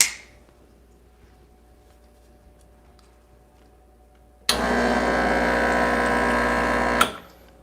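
Breville Barista Pro espresso machine flushing water: after a quiet hum, the pump kicks in abruptly with a loud, steady rushing buzz for about two and a half seconds, then stops sharply.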